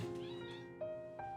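An indoor house cat gives a few short, close meows in quick succession, clear and tonal over a quiet room.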